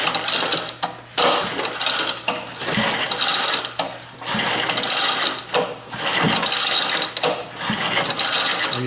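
An engine is turned over by hand on a workbench, giving repeated ratcheting clicks and gear-like mechanical clatter in an irregular rhythm, close and fairly loud, with no talking.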